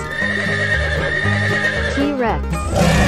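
A horse gives a loud, close whinny that rises and falls in a quavering burst near the end, over steady background music with faint hoof clip-clops.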